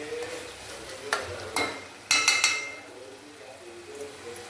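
Onion fries in oil in a pan for a Marathi village-style fish and crab dish, a soft background sizzle broken by a few sharp scraping stirs and clinks of a spoon against the pan.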